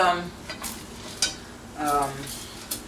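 A spatula scrapes around a cooked egg omelet to loosen it from a warm non-Teflon pan, giving a few short scraping and stirring strokes with faint sizzling beneath.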